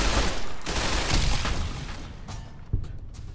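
Gunfire from the companion Boone in Fallout: New Vegas near Red Rock Canyon, a dense crackling volley of shots with dull booms that tapers off, then one sharp report near the end, with no talking.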